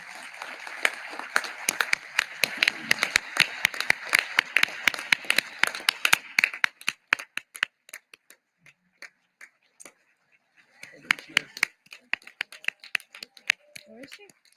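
An outdoor audience applauds an honoree at an Independence Day naturalization ceremony at Monticello, a dense burst of clapping that lasts several seconds, then thins to scattered claps and a brief renewed patter with talk underneath.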